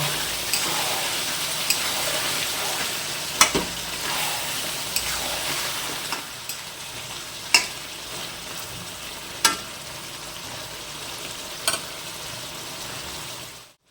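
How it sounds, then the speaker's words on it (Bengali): Chicken fries with cinnamon, cloves and cardamom for a potato chicken curry, a steady sizzle punctuated by sharp, regularly spaced spoon knocks against the pot, close and alone, fading out at the end. "মাংস কষা হয়ে গিয়েছে, মাংস থেকে তেল ছাড়তে শুরু করে দিয়েছে দেখো"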